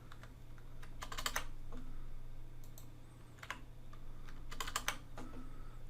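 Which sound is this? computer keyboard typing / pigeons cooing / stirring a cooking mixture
computer keyboard typing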